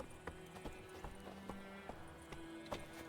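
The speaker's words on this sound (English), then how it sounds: "Come on, horsey. Giddy up." Roach the horse gallops in The Witcher 3, a rapid, regular clip-clop of hooves repeating evenly throughout at moderate volume.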